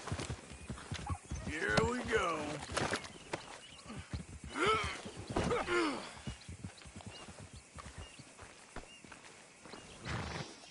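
Horse hooves clip-clop steadily in Red Dead Redemption 2, with a horse's whinny and snorts mixed in, close and clear under intermittent male dialogue.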